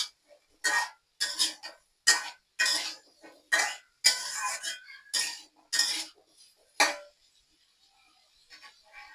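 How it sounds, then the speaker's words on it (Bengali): A spoon scrapes and clatters against a kadai while pumpkin pieces and spices are stirred, a series of sharp, close metallic strokes in irregular bursts with short pauses, loud and alone, fading to quiet at the end. "আমি একটু পর পর নেড়ে দিচ্ছি যেন কড়ার মধ্যে না লেগে ধরে।"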